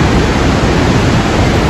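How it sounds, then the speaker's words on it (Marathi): A mountain waterfall beside the trekking path to Yamunotri pours in a loud, steady, broadband roar that fills the whole moment with unbroken rushing water. "कसा धबधबा आहे"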